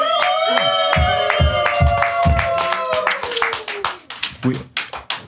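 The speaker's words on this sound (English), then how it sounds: "We gotta clap it up for that." Hand claps from a few people celebrating a musician's 29th birthday during a sit-down interview: sharp, uneven claps mixed with a sustained, tonal voice, then a looser scatter of individual claps near the end.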